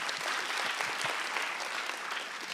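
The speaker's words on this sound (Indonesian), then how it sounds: "Tepuk tangan untuk Pak Dendro." A studio audience at a stand-up comedy show claps in a steady wash of applause throughout, moderately loud and even.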